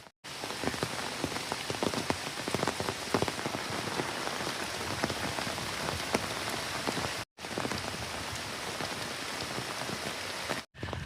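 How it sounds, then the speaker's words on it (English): Torrential downpour in a Seattle park, dense steady rain drumming on surfaces at full strength for the whole stretch, broken only by two brief dropouts, with no voices. "It is an absolute torrential downpour."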